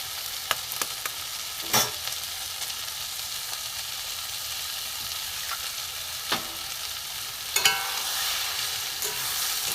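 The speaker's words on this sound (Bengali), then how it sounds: "ডিমটা এর সাথে ভাজা হয়ে যাবে ভেজে নেবো সুন্দর করে ঝুরঝুরে করে ভেজে নেবো" Two eggs scrambling in a hot pan with fried onion, green chilli and salt, giving a constant sizzle broken by occasional sharp scrapes and clicks of a spatula against the pan.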